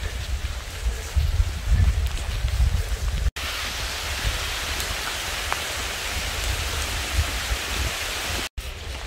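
Steady rain on a foggy mountain trail up Tohamsan, a continuous broadband hiss with soft lower rumble, close and even throughout with two brief dropouts.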